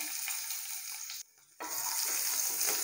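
Chopped garlic fries in a pan for dal khichdi, giving a steady, fairly quiet hiss and crackle of hot oil that drops out for a moment partway through and then resumes just as evenly.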